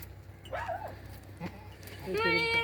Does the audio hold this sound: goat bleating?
yes